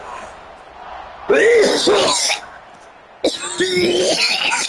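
In the NCAA 26 college football video game, a stadium crowd roars around a kickoff with two loud bursts of shouting cheers separated by a brief lull.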